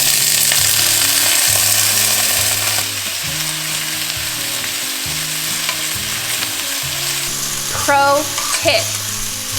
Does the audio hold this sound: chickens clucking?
no